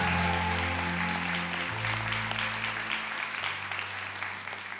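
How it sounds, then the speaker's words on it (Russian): A crowd at a student graduation celebration applauds over a sustained musical backing. The clapping is steady and moderately loud throughout. "Ваши аплодисменты, друзья, громче, громче, громче!"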